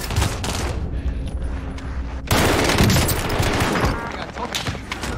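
Gunfire in Call of Duty: Warzone on Rebirth Island, a dense burst of rapid shots that grows louder and closer partway through, crackling over a busy battle mix with talk in the background.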